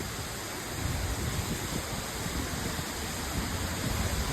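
A waterfall roars at night, a steady, dense broadband rush of falling water and spray that holds constant and loud throughout with no voices.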